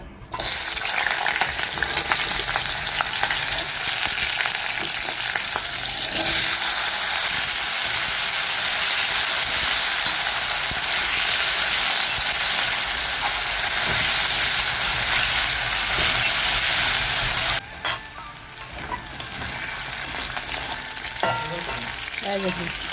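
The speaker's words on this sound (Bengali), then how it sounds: "তো এবার আমি আলুটাকে ভেজে নেব" Potatoes frying in a pan on a home kitchen stove, a loud steady sizzle running continuously for about seventeen seconds, then quieter with occasional stirring clatter.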